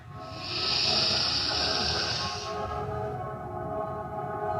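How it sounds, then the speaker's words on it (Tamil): A long, airy in-breath drawn through the left nostril with the right nostril closed, during alternate nostril breathing: a steady hiss that swells, holds for about two seconds, then fades into quiet room tone. "வலது நாசை மூடிட்டு இடது நாசி வழியாக மூச்சு இழுக்கலாம்"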